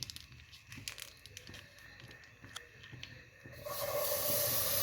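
Butter hits a hot, dry kadai while Sri Lankan biryani is being made. A few quiet clicks and crinkles give way to a sudden loud, sustained sizzling hiss.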